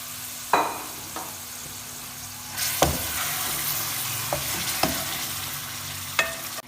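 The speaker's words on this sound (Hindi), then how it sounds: "जैसे ही लहसुन सौते हो जाएगा, इसके अंदर हम ऐड कर देंगे मैरिनेटेड चिकन" Marinated chicken is added to sautéed garlic in a pan and fries, sizzling louder after it goes in, with several sharp utensil clacks and stirring scrapes, close and without voices.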